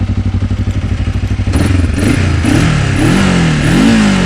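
A motorcycle in the Carpathian mountains starts with a loud, rapid, lumpy idle chugging, then its engine is revved several times in rising and falling surges, very close and loud with no talk.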